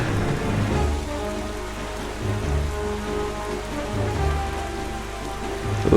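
Steady rain falling at night in Wind Waker HD, a dense continuous hiss of drops with a low, looping music bed underneath, no voices.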